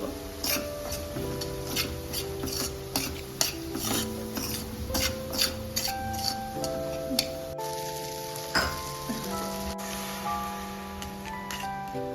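Steel-cut oats are stirred in a pot, a spoon knocking and scraping against metal in a series of light clinks and taps over a soft sizzle, with a tonal hum running underneath.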